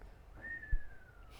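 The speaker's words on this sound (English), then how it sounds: "Now you got to whistle." A person whistles a single rising-then-gently-falling tone lasting about a second, fairly faint, with a soft thump partway through and a quiet room behind it.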